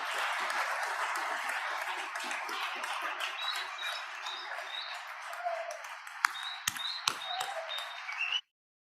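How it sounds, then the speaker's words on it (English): Sustained applause fills the House floor chamber on the opening day of a legislative session, a dense steady patter of many hands with a few sharper claps and faint voices near the end before it cuts off. "if we could give a quick round of applause for the staff and for all of your families and supporters here"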